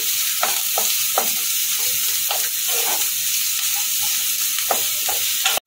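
Onions frying in a pan over a medium gas flame, for a paneer bhurji, with a steady bright sizzle broken by repeated scraping strokes of a spatula as they are stirred. Close and continuous, with no voices.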